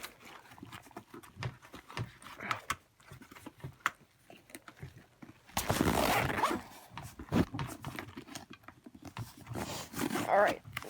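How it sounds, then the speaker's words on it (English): A zipper on a tackle box pocket zipped up in a quick, loud rasping pull, with softer handling rustles before it and a second short zip near the end. "We zipped up the pocket"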